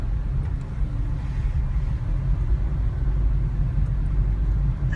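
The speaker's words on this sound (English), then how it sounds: "So the driver is driving the car." A car drives at low speed along a campus road with a speed limit, its engine and tyre noise a steady low rumble throughout, fairly close and unbroken.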